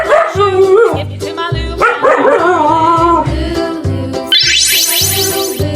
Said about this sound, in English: Husky dog.